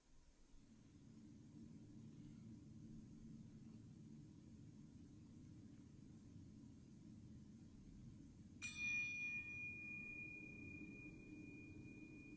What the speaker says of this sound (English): Hear that audio design where the bell is just slightly out of tune